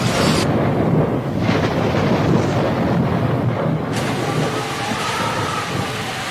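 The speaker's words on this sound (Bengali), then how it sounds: "প্রবল বেগে ঝড় শুরু হয়" Heavy, roaring noise of a storm rushes steadily, with a deep rumble and a burst of hissing wind and rain.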